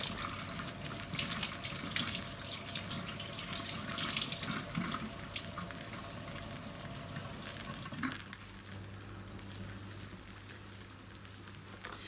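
Tap water running steadily into a sink during dishwashing with antibacterial dish soap, a continuous close hiss and splash that shifts slightly partway through as the flow changes.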